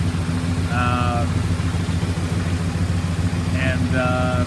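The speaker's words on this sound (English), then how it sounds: "the 383 is a really strong one, and it actually runs a little better than that 440 did" A 383 big block V8 runs in a 1968 Chrysler New Yorker, a steady low rumbling idle heard up close with an even throb, while someone talks over it.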